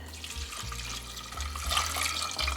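Tap water running steadily into a pot to cover lemon peel for homemade strawberry lemon marmalade, a continuous, fairly loud rushing splash with a low rumble beneath, no talk.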